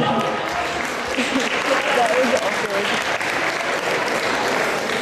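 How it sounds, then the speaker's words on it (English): A school assembly audience applauds a videographer, dense sustained clapping filling the room for several seconds, with voices faintly mixed in. "give her a big round of applause"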